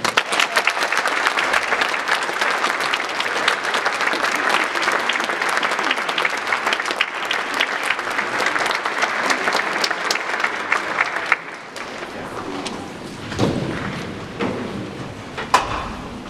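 A concert audience applauds a student intern from Idaho State University at a high school concert, dense loud clapping that runs for about eleven seconds before thinning to scattered claps and room noise.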